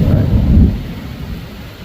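Thunder rumbles loud and deep during a storm, swelling and then trailing off over steady rain.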